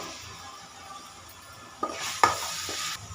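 Steady sizzling of tomato puree frying in a pan, with a few louder scraping stirs toward the end; no voices.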